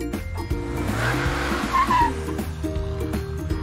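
Car driving with tires squealing, a revving engine with rising and falling pitch and a brief high tire screech in the middle, loud and close with no talk.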